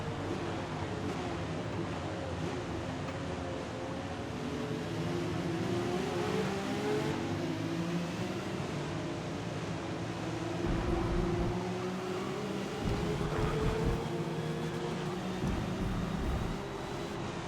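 A 1975 BMW #25 3.0 CSL race car in Forza Motorsport drones steadily around the Catalunya circuit, its engine note rising and falling through gear changes, loud and continuous with no talk over it.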